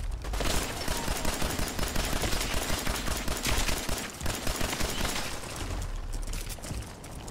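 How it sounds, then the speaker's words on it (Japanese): Rapid explosive pistol gunfire in Fallout 4's Nuka-World DLC, a dense, loud barrage of overlapping shots and blasts crackling almost without pause for several seconds. "うー、爆発ピストル。"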